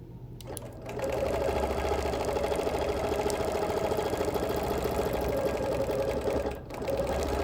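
A sewing machine quilting a Baltimore album quilt starts after a brief pause, then runs at a steady fast hum and rattle, close and continuous, easing off briefly near the end before resuming.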